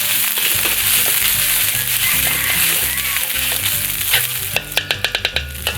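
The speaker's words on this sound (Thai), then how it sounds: "เสียง ตะริวกระทบกระทะนี่เป็นเสน่ห์อย่างหนึ่งครับน้อง" A metal spatula scrapes and clanks against a wok while stir-frying a dried pork salad amid a loud, continuous sizzle, ending with a quick run of sharp metallic taps.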